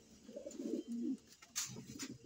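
Soft pigeon cooing, low throaty murmurs repeating a few times, with a faint chirp, fairly quiet and near.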